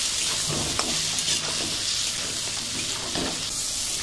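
Spices, salt and chilli powder frying in oil for aam potol, a green mango and pointed gourd curry: a steady close sizzle with scraping stir strokes throughout, no talking.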